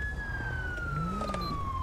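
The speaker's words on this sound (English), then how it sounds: "we gotta listen to this guy's siren the whole time" A police car siren in LSPDFR wails loudly and continuously with a slowly falling tone, close by and steady, over a low engine rumble.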